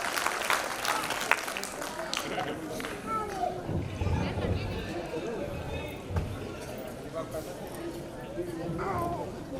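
Audience at a kavi sammelan poetry gathering for the Maharana Pratap birth anniversary applauding to welcome a poet, scattered clapping and crowd murmur at moderate distance, mixed with voices and chatter.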